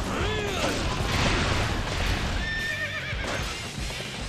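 A horse in Dynasty Warriors 8 Empires whinnies loudly amid rapid hoofbeats and clashing battle noise, with someone speaking in the background.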